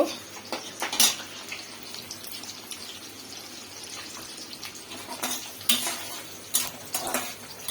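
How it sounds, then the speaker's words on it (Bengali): Cubed onions go into hot oil for a chicken dish and fry softly, with a spoon clattering and scraping against the pan in several close, sharp bursts over a low background sizzle. "তেল গরম দিলাম এখন এই যে কিউব কিউব করাটা পেঁয়াজগুলো দিয়ে দেব হালকা করে ভেজে নিব"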